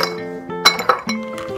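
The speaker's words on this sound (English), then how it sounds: "so I'm going to add my ice first" Ice cubes dropped into a glass mason jar for iced coffee, giving several bright clinks and rattles in quick succession, close and clear with no talking.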